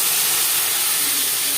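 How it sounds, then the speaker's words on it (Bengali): Water poured into a pan of spices fried with cumin and chili powder, giving a loud, steady, steam-filled hiss that fills the whole short moment without a break. "এবারে আমি এর মধ্যে পরিমাণ মতো জল দিয়ে দেবো।"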